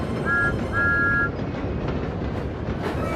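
An animated Thomas the Tank Engine pulls coaches along the line, heard as a steady rolling rail rumble with two short whistle-like tones near the start, fairly loud and continuous with no talk.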